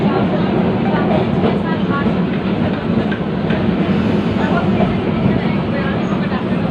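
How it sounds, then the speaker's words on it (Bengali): Continuous rumble and rattling clatter of a moving Kolkata tram heard from inside, loud and steady with rhythmic wheel knocks throughout. "এটা হচ্ছে ট্রামের ভিতরের।"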